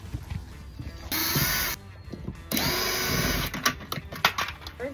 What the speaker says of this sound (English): Start by taking off the screws.